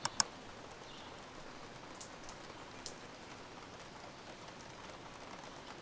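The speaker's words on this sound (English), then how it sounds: "it's very rainy this morning" Steady morning rain falls outdoors, a constant soft patter and hiss with a couple of sharp drip ticks at the start, heard alone without voices.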